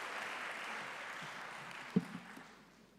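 A conference audience keeps clapping as guests make their way to the podium, a soft, steady wash of applause with a couple of louder single claps near the end, slowly thinning out.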